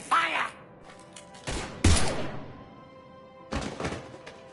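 Gunfire bursts in Mass Effect 3 Legendary Edition at Grissom Academy: three separated heavy volleys with thumping impacts and crackling decay, moderately loud, with voices faintly under them.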